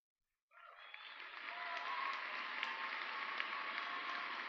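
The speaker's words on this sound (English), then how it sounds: "Their success, coupled with your pride, certainly calls for applause" Applause from a large crowd at a fall commencement ceremony starts abruptly and swells into steady, sustained clapping that holds at full strength, dense and even throughout.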